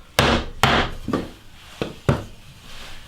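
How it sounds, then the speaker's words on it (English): Five dull wooden thuds from a rubber mallet knocking a fitted wood piece into place, evenly spaced and close, each a short knock with a brief ring. "Let's give it a tap in with a rubber mallet"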